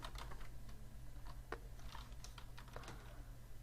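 Computer keyboard keys are tapped in quick, irregular bursts while text is typed for a banner in Photoshop CS6, close and fairly soft, with no voices.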